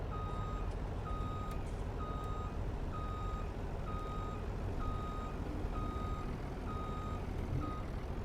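A tractor truck with a short trailer backs up in Farming Simulator 19, with regular reversing beeps pulsing about once a second over a loud, constant engine drone.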